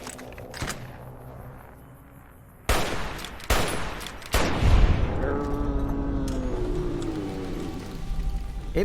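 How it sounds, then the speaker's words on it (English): Gunshots in Fallout: New Vegas, with a few sharp separate cracks, then louder reports, and a lingering rumble and game ambience after the shots. "somebody's shooting."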